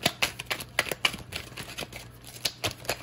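Playing cards are riffled and snapped in quick, crisp bursts with short pauses between them, close up and without talk.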